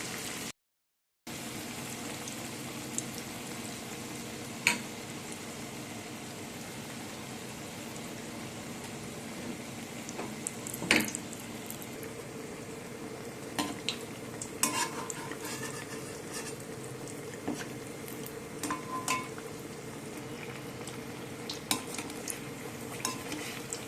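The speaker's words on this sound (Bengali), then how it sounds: "ভেজে নেব" Banana flower chop rolls frying in oil in a pan, a steady soft sizzle throughout with occasional clinks and scrapes of a utensil turning them, no talking.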